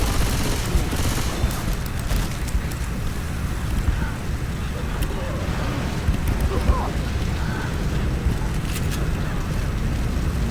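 Gunfire in the zombie shooter Left 4 Dead 2: dense, continuous volleys of shots blur into a loud, rumbling wash of noise that runs without a break from start to finish.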